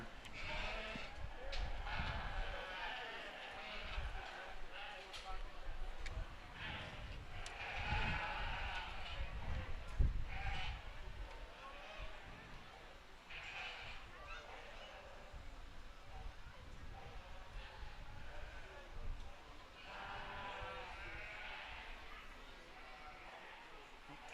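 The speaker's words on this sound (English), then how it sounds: "Coming into the arena momentarily are going to be our breeding sheep classes." Breeding ewes bleat intermittently in a county fair sheep show arena, faint and scattered, mixed with crowd noise and people talking in the background.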